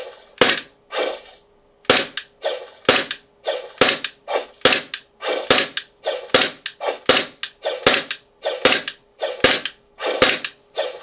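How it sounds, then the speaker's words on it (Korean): An empty airsoft gun dry fires with no BBs loaded, producing a rapid series of about twenty sharp, loud mechanical snaps. They come at a fairly regular pace with short gaps and one longer pause early on, with no talking. "탄창을 넣고 공탄 사격을 한번 해보도록 할게요."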